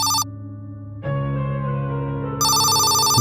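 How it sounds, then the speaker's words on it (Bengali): Telephone ringing in a hall as a sound effect for an audio story: bursts of a bright electronic ring at the start and the end, with a sustained musical tone between them. "হল ঘরে ফোনটা বাজছে।"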